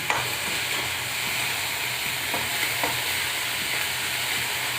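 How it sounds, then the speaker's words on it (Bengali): Garlic for chatu paratha frying lightly in a pan, giving a steady close sizzle with faint stirring scrapes and no talk. "বেশি ভাজবো না হালকা একটু গরম করে নেওয়া মানে রসুনের কাঁচা গন্ধটা আছে তো"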